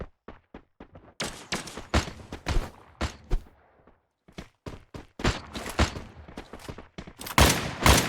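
Rapid video-game gunfire during a tournament grand final, sharp loud cracks arriving in quick clusters with brief pauses between volleys.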